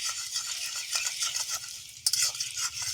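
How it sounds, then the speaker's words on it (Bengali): Chopped ginger and garlic frying in hot oil, a steady close sizzle with constant crackle and stirring scrapes, one brief louder burst partway through. "তেল গরম হয়ে গেছে আদা কুচি আর রসুন কুচি দিয়ে দিলাম"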